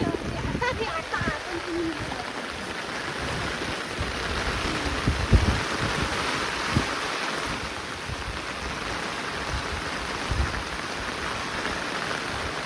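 Monsoon rain pours steadily in a Konkan village with a constant dense patter and splashing, while people talk over it.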